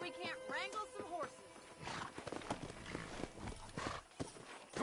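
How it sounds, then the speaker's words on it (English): Horses from the Red Dead Redemption video game gallop with rapid hoof clip-clops, moving among a herd of wild horses. An early whinny-like cry and a gruff voice are heard over the hooves. "let's see if we can't wrangle some horses."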